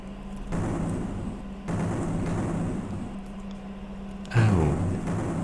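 Muffled grenade blasts thump in a run-and-gun video game, a couple of dull booms over a steady background rumble, with a sharper burst near the end.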